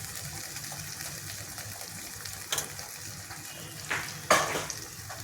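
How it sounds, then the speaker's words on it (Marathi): Mushroom masala with turmeric and chilli powder sautéing over a high flame: a soft continuous sizzle, with a few sharper bursts of stirring and scraping toward the end, close and quiet, no talking. "मोठ्या गॅसवरच आपण परतत राहू।"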